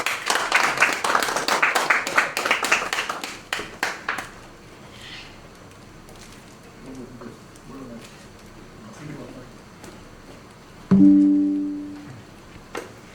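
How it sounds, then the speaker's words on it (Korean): A congregation at a church thanksgiving service gives a short round of clapping, dense at first and then thinning into scattered claps over a few seconds before quiet, with a brief sustained tone sounding later. "다 같이 정리의 박수 부탁드립니다"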